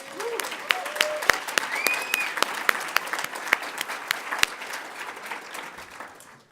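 A conference audience at a closing plenary session applauds the morning speakers, with many individual sharp claps over a fairly sparse, moderate wash that gradually tapers off, and a voice speaks briefly early on.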